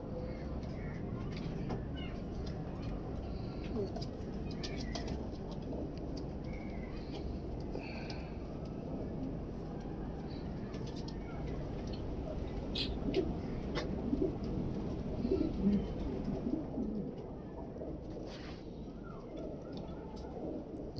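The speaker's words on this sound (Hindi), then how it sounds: "ग्रे पैरेट चंदा खानी कबूतर।" Grey parrot chanda khani pigeons coo in a pigeon loft, soft low repeated cooing buried in a steady rumbling background, with a few faint bird calls rising near the end.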